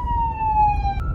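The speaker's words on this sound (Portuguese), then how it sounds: "Lá vem uma ambulância." An ambulance siren wails in a steady high tone, passing near in traffic on a bridge, with low road rumble underneath for a brief moment.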